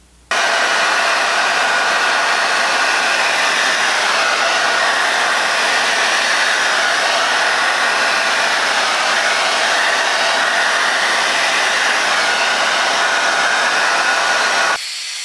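Hair dryer blowing hair dry through a vented brush, a loud, steady close-up whoosh and motor whine running unbroken for about fifteen seconds before cutting off.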